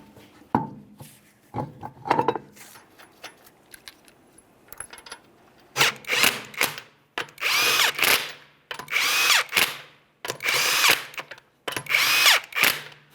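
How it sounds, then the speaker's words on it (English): On a 2009-2014 Nissan Maxima wheel, a power tool runs 21mm lug nuts on in a series of loud, close, whirring bursts separated by short pauses, following a few lighter clinks and brief tool spins. "we'll go ahead and start on all 5 of our 21mm lug nuts"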